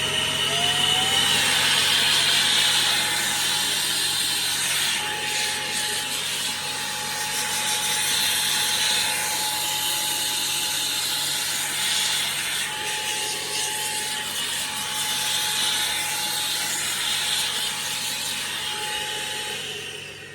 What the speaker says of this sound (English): I'm going to try putting this on the cone and give it a good blast.